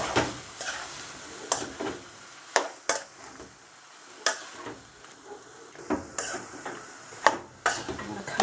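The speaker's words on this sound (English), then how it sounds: "return the vegetables that we cooked earlier back to the wok and basically just stir it in" Chow mein with chicken, pork, prawns and vegetables is stir-fried in a wok, with a soft steady sizzle broken by repeated sharp clacks and scrapes of a utensil against the pan, fairly quiet.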